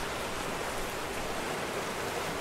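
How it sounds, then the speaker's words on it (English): Steady rushing water of a waterfall in the video game The First Tree, a continuous broadband roar filling the scene without pause or speech. "We get to climb up a waterfall, I guess."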